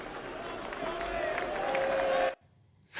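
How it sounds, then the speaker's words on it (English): A large cricket crowd at an Ashes match roars and cheers in a loud, sustained wash of noise, then cuts off abruptly into near silence before a brief burst of sound returns. "The cheer from the crowd was, I think, well-deserved."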